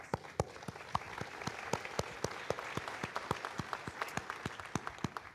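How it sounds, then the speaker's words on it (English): A room of people applauding the Arianespace launch team, many hands clapping in a steady, fairly close burst that continues with no speech over it. "so a round of applause for your team"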